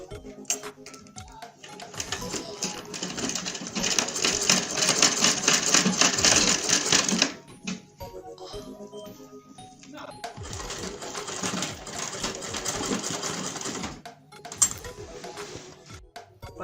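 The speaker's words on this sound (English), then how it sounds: "So let's go straight to the sewing machine. So I want to run a straight stitch down." A sewing machine runs a straight stitch through fabric for a zipper pouch, a loud rapid mechanical whirr in two long bursts with a short pause between them.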